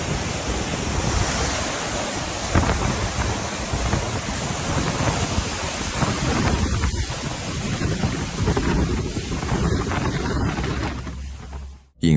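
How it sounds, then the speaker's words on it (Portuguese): Strong wind gusts of about 128 km/h roar through an open forest area, a loud continuous rushing with buffeting against the microphone that drops off abruptly at the end. "fortes rajadas atingem o local, aproximadamente 128 km por hora"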